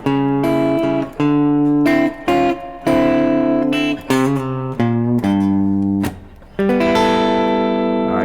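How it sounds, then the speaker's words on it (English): Electric guitar plays a bluesy run of single notes and chords in a loose rhythm, each phrase ringing briefly before the next. "Alright, put that together, the turnaround should sound like this."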